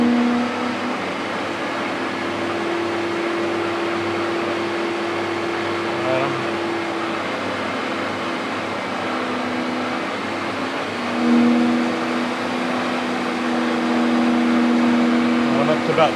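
A Monarch 10EE lathe takes a test cut at around 2,000 RPM, giving a steady mechanical drone with sustained ringing harmonic tones that waver and swell near the end, close and fairly loud.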